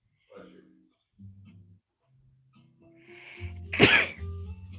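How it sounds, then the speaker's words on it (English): A single loud, sharp sneeze bursts out near the end, preceded by quiet murmuring and a soft intake of breath. "I'm about to sneeze right now"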